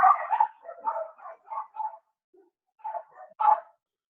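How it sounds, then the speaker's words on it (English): Dogs at home bark in short excited bursts at a passing dog, a run of clustered yips and barks, a brief pause, then a few more close, loud barks. "sometimes the dogs get a little bit excited. Certainly not by what I'm talking about, but I think it was a passing dog"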